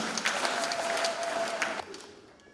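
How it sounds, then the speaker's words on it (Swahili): A church congregation at a Catholic confirmation Mass in Dodoma claps together in steady, dense applause that fades out over the final second, with no talk. "Tupige makofi."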